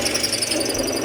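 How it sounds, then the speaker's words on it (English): A power drill cuts a 1 1/8 inch hole in a wooden window panel for a diesel heater air intake pipe, giving a loud, close, continuous whine with a slight pulsing grind. "First, I need to drill a 1 1/8 inch hole for the air intake pipe."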